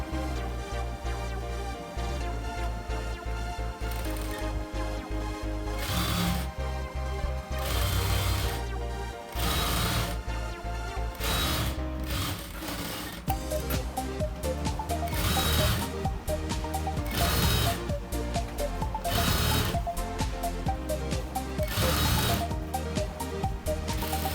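A sewing machine stitching the sleeve of a chudi, running in loud rapid bursts separated by short pauses, close up and alone.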